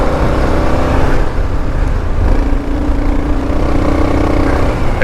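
A KLR 650 or CB500X dual sport motorcycle engine pulling under throttle on a sandy off-road trail, loud continuous revving drone with a rising tone near the end, wind-buffeted and close.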